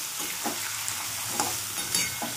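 Drumstick pods fry in oil with salt, giving a continuous sizzle broken by several scraping stirs at a quick, uneven rhythm, close and with no talking.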